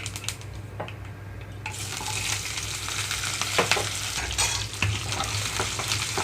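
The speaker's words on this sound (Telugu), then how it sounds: "ఇప్పుడు ఇందులోకి కట్ చేసి పెట్టుకున్న ఉల్లిపాయలు అలాగే పచ్చిమిరపకాయలు వేసేస్తున్నాను" Chopped onions and green chillies go into hot oil that already holds a tempering for a dal rasam. They sizzle loudly and steadily while a spoon stirs them in the pan, and there is no talk.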